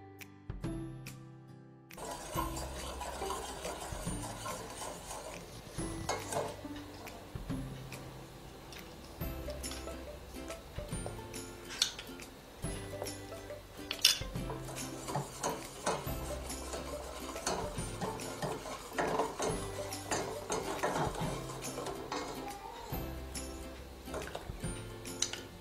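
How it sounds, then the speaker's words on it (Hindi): Custard mixture being stirred in a pan as it is slowly poured in, with steady rhythmic scraping and light clinking of a utensil against the pan, quiet and close, no talk. "थोड़ा थोड़ा करके हमें इसे इसमें डालना है और मिक्स करते जाना है"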